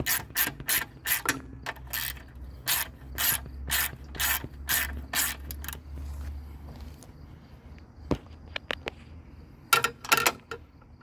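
A quarter-inch ratchet works a short bolt loose on an MTD snowblower, giving fast runs of sharp, close clicking in repeated bursts over a low mechanical hum, then a pause before a few more quick clicks near the end.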